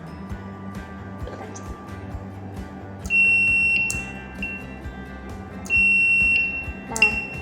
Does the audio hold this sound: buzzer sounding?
yes